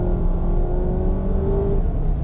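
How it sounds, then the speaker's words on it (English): A 2019 Honda Fit EX with a CVT accelerates at full throttle, its engine holding a steady, droning strain with a rising whine, loud and close from inside the cabin, no talk. "when you floor it, you really hear the engine work"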